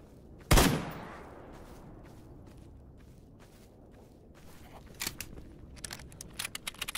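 Gunfire aimed at a bandit in S.T.A.L.K.E.R. GAMMA: one loud close shot rings out and decays, followed after a pause by a burst of quicker, sharper shots near the end.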